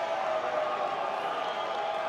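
A baseball crowd stands and cheers in a stadium, a broad, steady roar of many voices with no break, heard from a distance.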